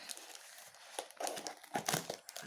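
A plastic shipping package from China is ripped open by hand, giving a close, irregular run of crinkling and tearing bursts that grow louder toward the end, with no talk.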